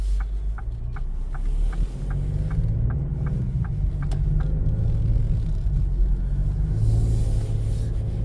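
A 2025 Ford Explorer ST with a twin-turbo 3.0 V6 cruises a neighborhood street, a low steady engine rumble heard from inside with a faint repeating ticking over it.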